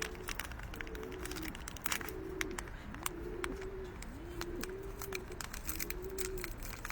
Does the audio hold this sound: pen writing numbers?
no